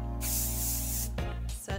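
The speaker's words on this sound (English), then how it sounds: "Take your soft control hairspray," Soft control hairspray sprayed onto freshly set curls in two close, loud hissing bursts, a long one followed by a short one, with no talk.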